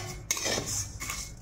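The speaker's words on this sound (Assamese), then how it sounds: "এতিয়া চিৰাখিনি ভাজি লম" Metal utensil clinks and scrapes against a pan while flattened rice is fried and stirred, a couple of quick close knocks over a faint hiss.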